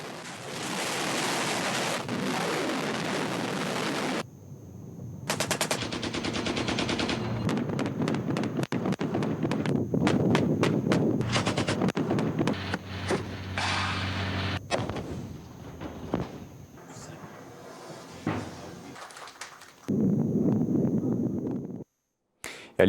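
Gunfire and explosions during an Algerian military live-fire exercise at a shooting and manoeuvre range in Djelfa, with bursts of rapid shots and heavy blasts. Loud passages alternate with quieter gaps, and no one speaks.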